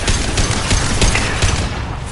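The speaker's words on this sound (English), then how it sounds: "Firing a high-impact shot!" A high-impact shot fired in the video game Mass Effect 2, a loud, dense barrage of booming gunfire with rattling mechanical clatter, continuous over its short length, no talking.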